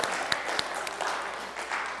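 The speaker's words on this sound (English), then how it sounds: "Let's applaud them." Scattered audience applause from a modest crowd at a talk about change, steady broadband clapping with a few sharper claps standing out, lasting about two seconds without anyone speaking.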